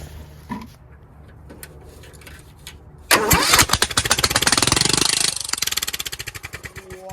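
A repaired Kohler Courage engine with a new battery and replacement carburetor cranks after a quiet lull, then suddenly catches and roars to life, settling into a fast, loud, even idle close by.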